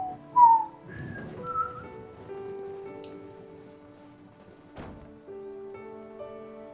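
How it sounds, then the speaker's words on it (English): A person whistles a short tune over Civilization 7 game music, with a few brief melodic notes near the start and a soft background score continuing underneath. "time to whistle my favorite song"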